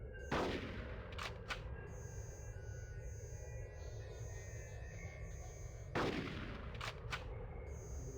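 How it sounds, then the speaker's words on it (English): Shotgun blasts from Conker's Bad Fur Day video game, one loud sharp shot with a quick follow-up early on and another near the end, over quiet eerie background music. "Also, this shotgun has range, baby."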